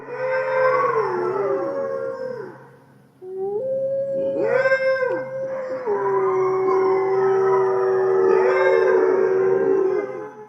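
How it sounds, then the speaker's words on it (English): A pack of Mexican wolves howls together, with several long, overlapping, wavering howls that rise and fall. Brief yips break in partway through. The chorus is strong and sustained, with a short dip in the middle, and no voices are heard. "They communicate with scent markings, body postures, and a range of calls that include barks, growls, whines,"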